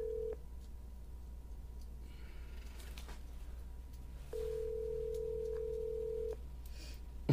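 A phone call rings out unanswered, with steady, fairly faint ringback tones sounding in a long beep and a short beep over a low background hum.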